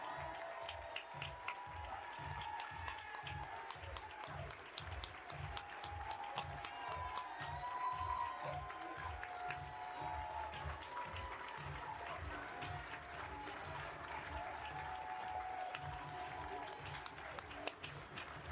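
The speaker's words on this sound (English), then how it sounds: "Give it up for them as they are coming in." Audience at a banquet ceremony applauds as children walk in, sustained crowd clapping with scattered cheers over a steady rhythmic beat, fairly faint and continuous throughout.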